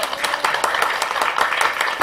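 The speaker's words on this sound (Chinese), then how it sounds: "从韩国大妈们热烈的掌声可以知道" Korean women farmers at a farming association gathering applaud warmly, a dense patter of many hands clapping close by for a couple of seconds.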